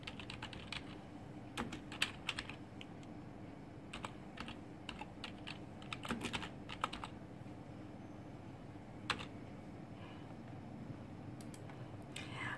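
Computer keyboard typing while a blog post is written, a steady run of soft, close key clicks with a few sharper taps, continuing for the whole stretch with no talking.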